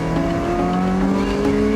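Porsche 918 Spyder's naturally aspirated race-derived V8 with the roof off, a loud, steady engine drone with strong harmonic tones holding through the whole stretch, no talk over it.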